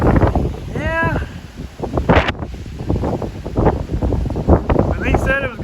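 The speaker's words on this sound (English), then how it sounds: "When they said it was going to be strong winds today, they slightly underestimated. Wind gusts up to 80 to 90." Strong gusty wind, with gusts of 80 to 90, buffets the microphone with low rumbling blasts while someone talks over it throughout.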